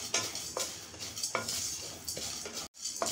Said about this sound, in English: Put thill also and fry for about 30 seconds.